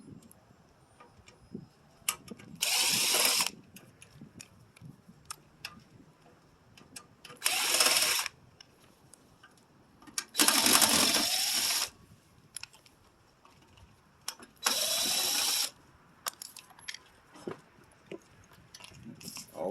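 Screws come out of the back plate of a GS Sola micro computer regulator power conditioner, four short whirring bursts of a power driver separated by small clicks and handling noises, close by.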